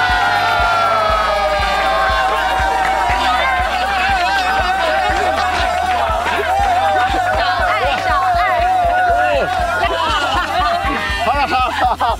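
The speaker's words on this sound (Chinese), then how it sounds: "哇，欢呼声不绝于耳" A crowd cheers and chatters at an archery award ceremony on an all-star sports variety show. Lively hubbub with laughter runs under steady rhythmic thumps and music.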